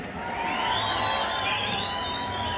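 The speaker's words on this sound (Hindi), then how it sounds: "स्वागत नहीं करोगे तालियों के साथ?" An audience at the Winter Queen 2023 finale of the Manali winter carnival cheers with whoops and high shouts, a rising and falling swell of crowd noise heard from a distance, fairly faint and continuous.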